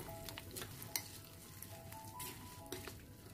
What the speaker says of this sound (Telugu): దీన్ని ఇప్పుడు ఈ పచ్చడిలోకి యాడ్ చేసుకొని బాగా కలిపేసుకోవాలి